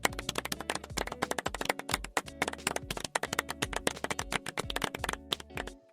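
Scattered claps from a small audience at a philosophy talk, sharp and close, a quick run of hand taps that tapers off near the end without any voices.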